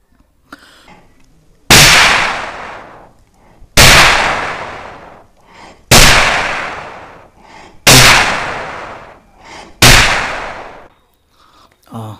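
A voice mimics a cannon gun salute at a Red Fort ceremony: five loud, booming blasts, evenly spaced about two seconds apart, each trailing off in a long echoing decay.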